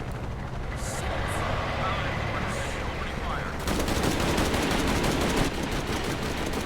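Gunfire in Shadow of the Tomb Raider rattles through a dense, noisy game mix. It thickens into a heavier, continuous barrage partway through, with voices talking over the action.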